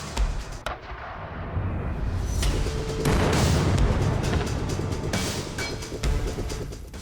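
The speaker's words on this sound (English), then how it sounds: "Heavy gunfire can be heard as sparks fly toward the Russian military forces." Heavy gunfire and booming artillery-like blasts in combat as Ukrainian forces with Leopard tanks hit a Russian convoy, a dense, continuous loud roar of shots and explosions lasting throughout with no pauses.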